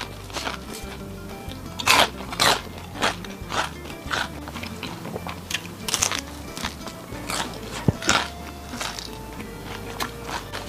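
Crispy fried skewers being bitten and chewed, loud close crunches repeating steadily over a soft background hum, with no voices.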